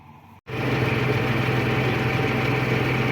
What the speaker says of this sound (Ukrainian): комбайн працює бере радок посередині